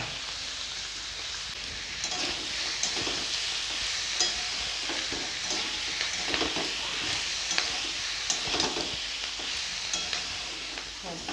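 Spices with chilli powder, turmeric, salt and peanut paste stir-fry in a pan, giving a steady sizzle broken by repeated scraping strokes of a spatula, close and continuous for several seconds.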